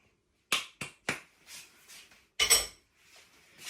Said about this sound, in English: now we just want to mix all those dry ingredients together